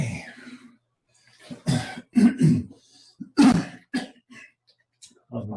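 Several harsh coughs and throat clearings come in short bursts, close and fairly loud, separated by brief pauses.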